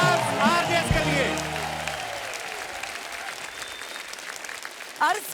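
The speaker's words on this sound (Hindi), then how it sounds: "जोरदार तालियां हो जाए हमारे" Studio audience applause on The Kapil Sharma Show welcomes a superstar guest. A voice is heard over the opening moments, then steady clapping carries on at moderate volume, and a brief voice returns at the end.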